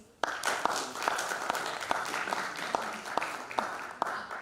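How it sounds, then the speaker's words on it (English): Audience applause at a youth engineering competition's grand finale ceremony, a dense steady patter of clapping from a hall full of people with a few sharper individual claps standing out, moderately loud and continuous. "A round of applause, please."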